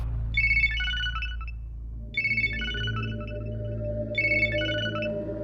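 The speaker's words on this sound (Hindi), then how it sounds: "भाई रिंग बज रही, वो उठा नहीं रहा है।" A phone ringtone chimes in three evenly spaced bursts of bright tones over a low background hum, with a pause between each ring.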